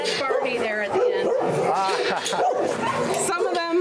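Several show dogs in a kennel bark, yip and whimper continuously, close and fairly loud, with yelps overlapping throughout.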